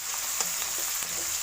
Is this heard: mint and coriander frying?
yes